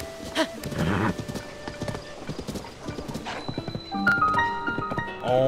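A horse in Zelda: Tears of the Kingdom trots with close, steady clip-clop hoofbeats, whinnies once early on, then chiming game tones sound near the end.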